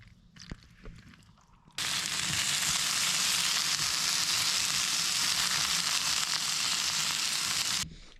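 Meat dropped into a hot pan on a camp stove at a forest campsite bursts into a loud, steady sizzle that runs for several seconds after a few quiet clinks and taps, then cuts off abruptly.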